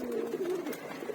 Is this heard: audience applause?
no